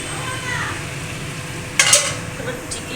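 Dal cooking in a pan in a home kitchen, with soft stirring and a low sizzle, then a couple of sharp metallic clinks of a utensil against the pan near the end.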